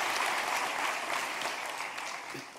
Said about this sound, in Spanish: Dele ese aplauso al Rey bendito.